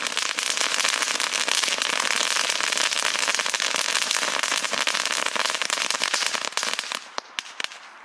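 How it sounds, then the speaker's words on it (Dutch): Ribbon firecrackers bought from a Dutch fireworks shop going off outdoors, a dense, loud, continuous rapid crackle of pops lasting about seven seconds before thinning to a few last isolated bangs. "Zullen we even alle knetterlinten doen?"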